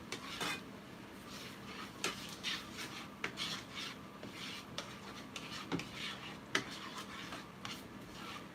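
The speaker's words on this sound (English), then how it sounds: "We mix everything well together." Pizza dough ingredients being mixed in a bowl, with repeated scraping, clinking and stirring knocks of a utensil against the bowl, moderately close and irregular, no talk.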